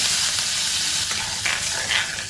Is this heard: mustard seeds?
yes